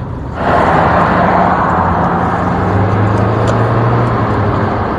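A Rover Streetwise under way on the road, its engine a steady, loud, continuous drone with tyre and road roar throughout, heard from inside the car with no voices.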